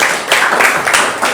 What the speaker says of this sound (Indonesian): kasih tepuk tangan untuk kita semua.